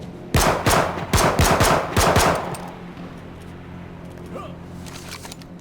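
Automatic gunfire in the video game H1Z1, about eight sharp shots fired in a quick burst over two seconds, fairly close and loud, then fading into a quieter background.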